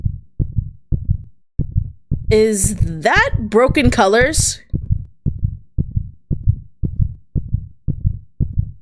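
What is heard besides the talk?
rapid heartbeat sound effect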